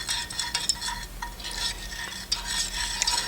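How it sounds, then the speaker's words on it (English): A spoon slowly stirs a Russian army ration meal, giving soft, repeated scraping and light clinks against the container, close and quiet with no one speaking. "we're going to take our spoon, slowly stir that"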